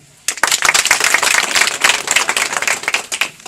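An audience claps after a short silence, a sudden onset of close, crisp, fairly loud hand claps that continue unevenly and begin to thin toward the end.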